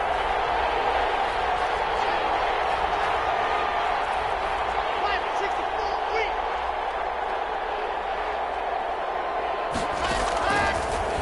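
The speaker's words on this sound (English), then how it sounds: "The crowd getting into it as we come up on a big 3rd down." A video game football stadium crowd roars continuously ahead of a big third down, a dense, steady wall of cheering noise with a commentator's voice over it.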